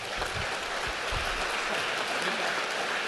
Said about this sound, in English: You can hear from the applause.